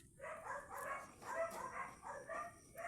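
Dogs bark and yip in a quick, fairly faint burst with no voices over them, a short run of overlapping calls heard from some distance away.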